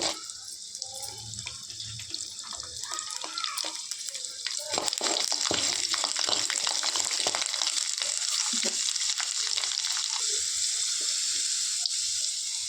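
Garlic, curry leaves, dried chillies, ginger and onion saute in hot oil for a chutney with a steady, loud hiss of frying. The sizzle grows louder partway through, with scattered crackles and soft stirring knocks close by.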